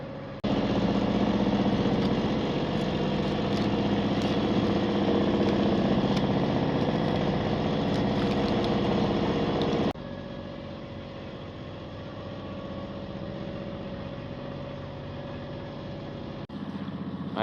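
A small sailing boat motors from Plymouth toward Fowey under engine power, a loud, continuous engine drone with water rush close by that steps down to a quieter, steady throb about two-thirds through.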